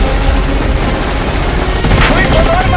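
Machine gun fire from the Die Hard movie trailer, a loud dense rattle buried under a thick mix of music, effects and voices.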